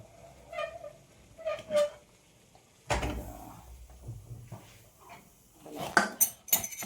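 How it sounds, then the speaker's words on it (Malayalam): A pressure cooker is set down on a home kitchen stove, giving a few close metallic clanks and knocks separated by quiet pauses, with no talking. "ഒഴിച്ചിട്ട് നമ്മൾ കുക്കർ അങ്ങോട്ട് വെക്കാം."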